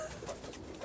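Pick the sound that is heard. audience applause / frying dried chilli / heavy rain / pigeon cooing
pigeon cooing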